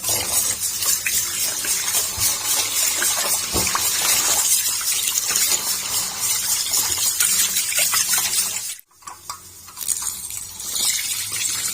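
Tap water gushes steadily into a container close by as rice grains are swished and rinsed, briefly cutting off near the end before flowing again.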